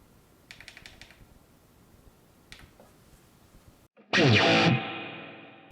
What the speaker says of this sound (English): Maybe we should mute the delay for now, so we can hear the reverb better